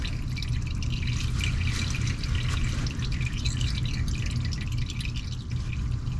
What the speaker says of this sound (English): just let that oil come on out